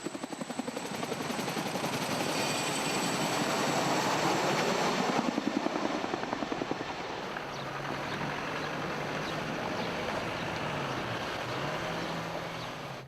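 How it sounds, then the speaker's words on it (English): A medevac helicopter in Helmand, Afghanistan, flying with a loud rotor throb and roaring turbine that swells close by, then recedes and settles into a steadier drone. "The medevac helicopter took the casualties to Camp Bastion, the main British base in Helmand."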